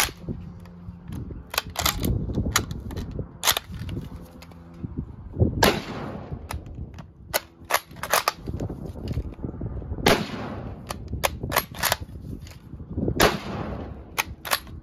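A Kar98K rifle fires at an outdoor range, sharp loud cracks spaced irregularly with some bursts of nearby shots from other guns, echoing briefly after each report.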